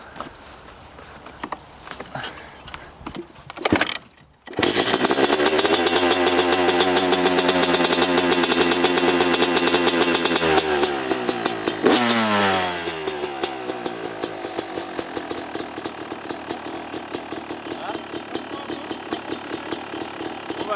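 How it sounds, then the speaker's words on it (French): A Yamaha 250 two-stroke motorcycle sputters briefly, then fires and settles into a loud, raspy idle with repeated blips of the throttle, revving up and dropping back several times, close and alone. "On va d'abord démarrer la Yamaha, donc c'est un 252 temps et c'est plutôt bruyant."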